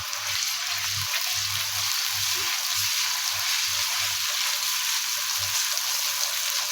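Ground garlic sizzles steadily in hot oil with softened onions in a home kitchen pan, a constant frying hiss with soft low stirring bumps, close and alone.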